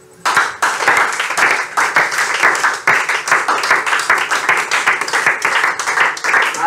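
A church congregation at a vigil claps and applauds, a dense, steady wash of many hands that carries on for several seconds, close and lively, with scattered voices mixed in.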